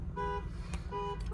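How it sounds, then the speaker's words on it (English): A parked car's alarm sounding on a downtown street: short repeating electronic tone bursts, moderately distant, over low traffic rumble. "somebody's car alarm just went off all by itself"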